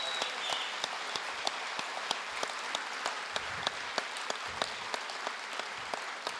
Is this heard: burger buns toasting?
no